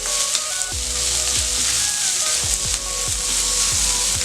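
Onion and curry leaves sauté in hot oil with a steady, loud sizzle throughout, while repeated soft clinks of a spatula against the pan break in at a regular pace.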